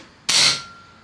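A Kral Puncher Knight air rifle fires a slug at full power, a single sharp, loud crack that snaps on abruptly and decays within a fraction of a second, alone in a quiet setting.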